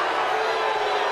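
A wrestling arena crowd roars steadily for Eddie Guerrero as he climbs toward the top rope, a dense, continuous wash of cheering that fills the whole clip with no break.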